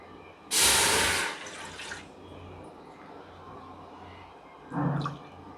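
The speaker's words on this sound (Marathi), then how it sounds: "त्याच्यामध्ये आपण 2 फुलपात्र पाणी घालणार आहोत" Water poured into a pot on the stove for sugar syrup in a sweet-making kitchen, a loud splashing gush lasting about a second, then a shorter second splash a few seconds later, with no voices.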